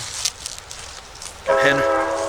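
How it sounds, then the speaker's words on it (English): At Gettysburg National Cemetery, a low rumble of rail noise gives way to a loud, sustained train whistle blast that starts abruptly and holds steady. "Got a train whistle there."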